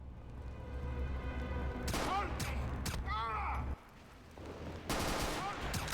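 Gunfire aimed at enemies in a video game: rapid bursts of loud shots with ringing metallic echoes, a short lull, then another burst, set against continuous game background sound.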